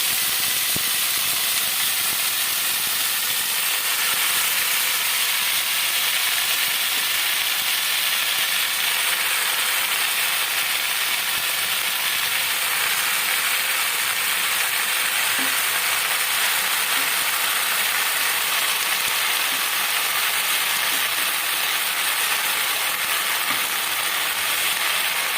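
Water spinach (kolmi shak) frying in a pan gives a steady, bright sizzle and hiss that runs evenly throughout, close and fairly loud, with no talking over it.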